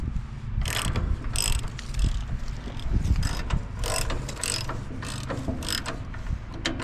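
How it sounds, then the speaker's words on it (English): A ratchet clicks in rapid, repeated strokes while loosening the tensioner pulley bolt on a sawmill, close and fairly loud, with rumbling background noise underneath. "we need to loosen this bolt right here, which controls the tensioner pulley right here."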